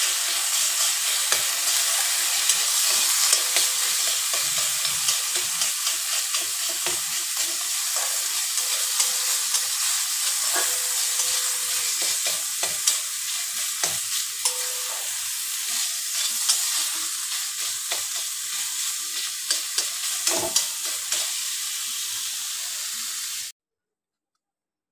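Stuffing for stuffed pointed gourd cooking in a pan, a steady broadband sizzle with frequent scraping stirs and small clicks for about twenty-three seconds, alone, before cutting to silence.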